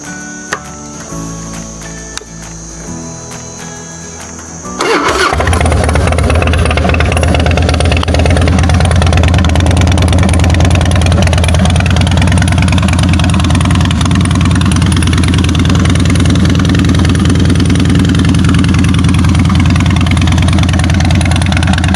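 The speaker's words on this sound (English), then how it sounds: "I got some pipes, some new to me, used Vance & Hines Big Shot Staggered." A Harley-Davidson Softail Springer motorcycle with used Vance & Hines Big Shot Staggered exhaust pipes fires up after about five seconds of quieter background, then settles into a loud, steady, deep idle that rumbles on without a break.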